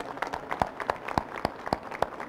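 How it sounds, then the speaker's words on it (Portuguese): An audience at a Campus Party Brasil talk gives a round of applause, sparse and fairly quiet, with a handful of distinct rhythmic claps standing out over a softer scattered patter. "pedir para vocês, né, uma salva de palmas"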